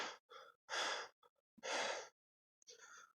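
Anime character gasping and panting heavily in exhaustion, a run of loud, ragged breaths separated by brief pauses, with no other sound around them.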